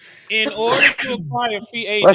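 A single sneeze cuts in partway through a sports podcast, abrupt and close, set among steady talk from the hosts.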